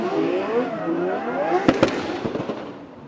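A Nissan S14 drift car scrubbing its rear tyres builds a loud, close engine drone with rising tyre squeal, then a few sharp pops and bangs near the end.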